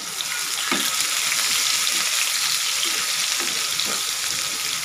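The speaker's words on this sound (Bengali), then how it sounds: "আলু ভর্তা দেওয়ার জন্য পেঁয়াজ বেরেস্তা করে নেব।" Onions fry until crisp in hot oil for a potato mash, a steady bright sizzle with occasional soft stirring scrapes, close and continuous, with no talking.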